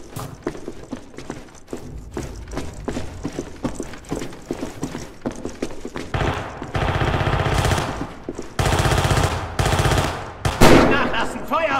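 A barrage of machine gun fire in Red Orchestra 2, set at Stalingrad, rattles in rapid clattering bursts, building to long, dense sustained volleys with scattered distant shots in between.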